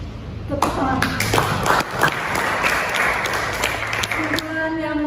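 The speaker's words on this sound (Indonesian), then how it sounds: "Tepuk tangan." A small classroom group claps steadily for several seconds, close and fairly loud, with a voice speaking briefly before and after.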